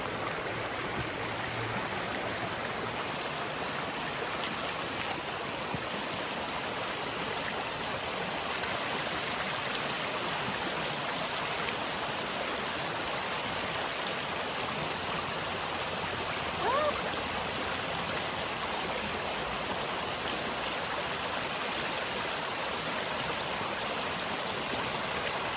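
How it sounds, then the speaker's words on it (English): A creek at a creek crossing in Spearfish Canyon rushes steadily and close by, a continuous broad wash of flowing water that holds level throughout with no talking. "looks like we got a creek crossing here"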